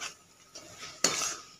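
Frozen peas and mixed vegetables tossed in a pan for veg pulao, light metallic spoon scrapes ending in a louder clatter with a short sizzle, close by.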